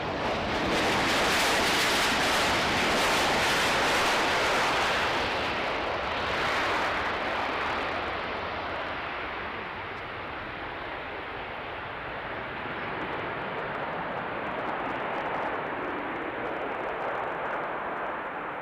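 KLM aircraft at Manchester Airport, a broad loud jet roar that is strongest at the start and slowly eases into a steady rumbling wash, heard from a distance without talk.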